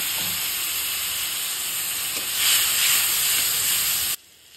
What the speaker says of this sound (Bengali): যেই ফুটোয় যাবে বন্ধুরা দিয়ে দেবো আমি এতে পরিমাণ মতন টমেটো